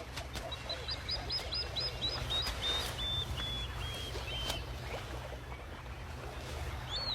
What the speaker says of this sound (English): And the feisty plover immediately declares war.